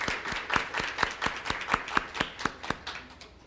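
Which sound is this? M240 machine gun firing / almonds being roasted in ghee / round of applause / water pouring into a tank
round of applause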